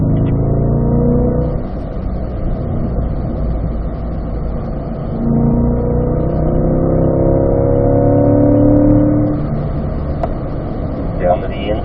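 A car engine drones steadily on a racetrack, rising in pitch as it pulls through the gears with a brief dip at a shift, while someone talks over it throughout.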